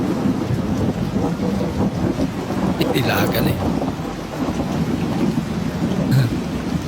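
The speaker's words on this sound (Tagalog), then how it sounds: "Malakas, malakas ng ulan." Heavy rain pours steadily while low thunder rumbles throughout, with a brief spoken remark in Tagalog partway through.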